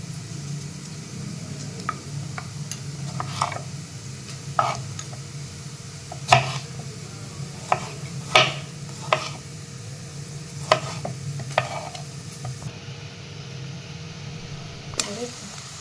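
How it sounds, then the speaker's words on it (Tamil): Chopped onions frying in oil in a pan until golden brown for a Tamil egg curry, a steady soft sizzle under repeated clinks and scrapes of stirring, with no talk. "இந்த வெங்காயம் வந்து இதுமாரி கோல்டன் ப்ரௌன் ஆகணும்."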